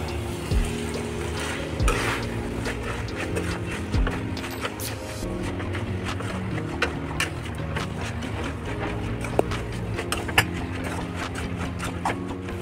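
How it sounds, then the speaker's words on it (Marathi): Veg Schezwan noodles stir-fry in a hot pan, giving a steady close sizzle with scattered clinks and scraping as they are tossed and mixed, continuous throughout with no talking. "आता नूडल्स आपण छान फ्राय करून घेतलेले आहे"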